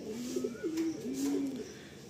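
Madrasi and Andhra pigeons cooing close by, a few soft low rolling coos in quick succession with no talk.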